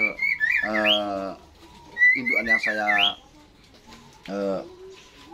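Zebra dove (perkutut) in a breeding setup cooing in two or three short rhythmic phrases, close and fairly loud, with someone speaking Indonesian over and between the calls.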